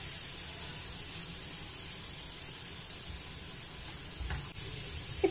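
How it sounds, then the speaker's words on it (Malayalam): Onions with salt sautéing in a pan for chicken donuts, a steady close hiss of frying that runs unbroken, with a faint clink near the end. "നല്ല സവോള നല്ല പോലെ സോക്കായി നന്നായിട്ട് തന്നെ വഴഞ്ഞു കിട്ടണം"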